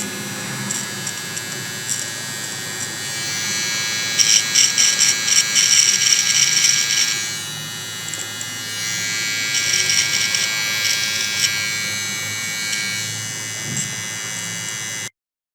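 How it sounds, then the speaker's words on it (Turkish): A Powertec TR-4400 electric beard and hair clipper buzzes close and steadily, its whine rising and wavering as it cuts, then cuts off abruptly at the end. "Aynı şekilde PowerTech 4400 sakal içinde ufak bir T başlıklı makine göndermiş."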